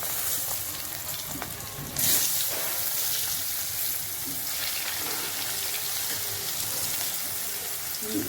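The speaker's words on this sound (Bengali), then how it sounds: "এই দেখুন, তারপরে আমি আলুটা দিয়ে দিচ্ছি।" Potato pieces hit hot oil seasoned with cumin seeds for a silver carp curry, setting off a loud, close, continuous sizzle that surges sharply when they drop in, then keeps crackling steadily.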